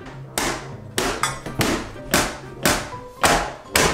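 A shoe bangs repeatedly on a computer, about seven sharp, loud thumps in an uneven rhythm, each with a short ringing decay.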